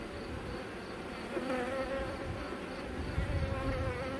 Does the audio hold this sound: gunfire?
no